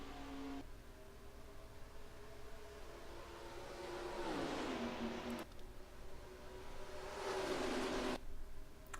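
A pack of stock cars in the NASCAR Racing 2003 game roars up to speed on the Pepsi 300 restart, engine notes sweeping upward in two waves of acceleration over a low steady drone, fairly quiet overall.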